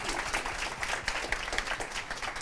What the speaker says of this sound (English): a big round of applause for our experts